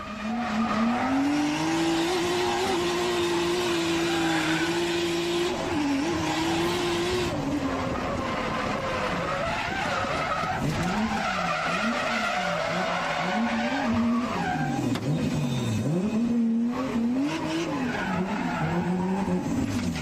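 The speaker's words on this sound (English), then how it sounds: "After linking the entire track, Tezuka goes into the first corner even faster." A drift car skids through a corner at the Mizunami circuit, its tires squealing loudly and continuously as the engine note rises and wavers through repeated throttle changes, heard alone for about twenty seconds.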